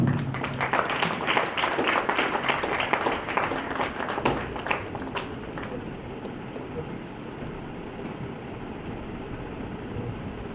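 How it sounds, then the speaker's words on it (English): An audience at a law faculty gathering of Osmania University, Hyderabad, claps briskly to welcome a guest. Dense, overlapping applause fills the first five seconds, then thins and fades into a low room murmur. "Please extend your welcome with quick claps"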